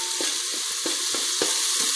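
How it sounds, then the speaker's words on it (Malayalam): Crushed green chili, ginger and garlic sizzle steadily in hot oil in a biryani pan, a constant frying hiss broken by regular soft scrapes as the mix is stirred, with no talk. "ഇതിൻ്റെ പച്ച മണം പോകുന്നത് വരെ നമ്മളൊന്ന് ഇളക്കി കൊടുക്കണം."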